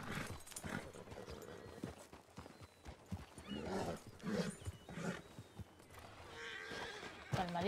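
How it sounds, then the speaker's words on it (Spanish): Horse hooves clopping with occasional neighs in a ranch roleplay video game, a rhythmic stream of hoofbeats over background sounds, with voices in places. "A ver, deja el caballo donde puedas."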